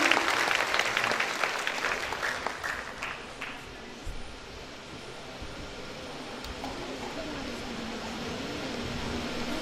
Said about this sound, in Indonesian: sekarang kita tepuk tangan untuk teman-teman yang mahasiswa prestasi